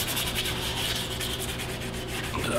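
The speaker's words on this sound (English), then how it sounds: "It's just a lot of hand sanding." Steady, continuous scratchy rubbing of sandpaper against a walnut bowl, close up and even in level throughout, with no talking.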